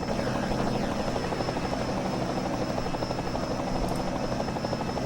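Helicopter over a NASCAR race at Daytona in a racing game, a dense continuous rotor roar with race-car engine noise beneath it, loud and steady throughout, with no speech.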